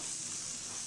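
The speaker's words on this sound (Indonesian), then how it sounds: "masukkan bumbu yang sudah kita haluskan tadi, tumis sampai harum" Ground spice paste sizzles steadily in hot oil in a frying pan while cooked for Indonesian beef serundeng, a brief, even, close-up hiss with no voices.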